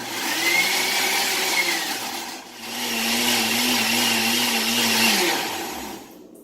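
A countertop blender whirs steadily as it blends sea moss gel with water, a loud continuous motor hum that dips briefly midway and then runs on before cutting off near the end.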